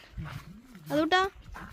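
A dog at a house gives two quick, loud barks in a row, heard nearby amid a child's chatter and background talk.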